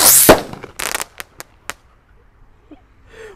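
A single-shot Roman candle, size 1.75, fires inside a paint bucket. A loud opening blast is followed by a few sharp pops that fade to faint crackles, with no talking.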